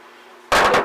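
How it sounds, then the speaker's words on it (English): A single sharp metallic strike of a hammer on a stamping punch, decorating a knife neck sheath, rings out after a quiet moment, loud and close, decaying briefly. "you just punch it with a hammer"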